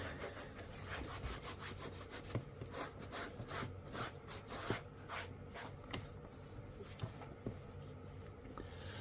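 The edge of a single-layer leather rifle sling being rubbed hard by hand, a rapid, rhythmic back-and-forth friction rasp that continues steadily, close and fairly quiet, with no talking.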